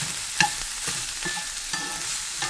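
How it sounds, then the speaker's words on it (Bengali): Finely shredded cabbage fries in a pan with a soft, steady sizzle, broken by light stirring clicks and scrapes at irregular intervals, close and moderately loud. "পাতা কপি কুচানো দিয়ে দিলাম, একটা ঝিরে ঝিরে করে কুচানো পাতা কপি"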